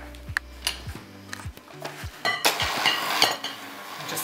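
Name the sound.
whisking mascarpone and caster sugar in a bowl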